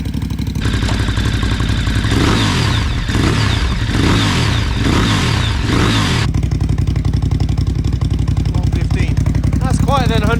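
A 2022 Ducati Hypermotard 950 SP with a VanDemon exhaust revs loudly up close in first gear, several sharp rising and falling blips over a rough idle before settling back to a steady burble.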